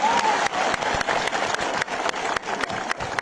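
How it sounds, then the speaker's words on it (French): A crowd at a large rally in Niger applauds steadily, dense clapping filling the space for a few seconds at moderate loudness. "le frère Siradji, que je vous demande d'applaudir"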